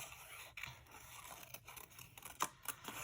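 Scissor blades slice and scrape through paper around a flower shape, several soft snips and rasping cuts spread irregularly, close and faint, with no voices.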